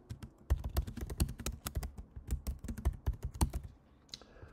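Someone types comments on a computer keyboard. Close, quick, uneven keystrokes tap steadily for about four seconds, then stop.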